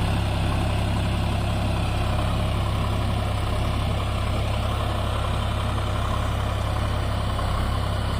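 A Sonalika 750 tractor engine runs steadily with a Param rotavator attached, a loud, continuous low diesel drone holding an even pitch throughout, with no talk over it.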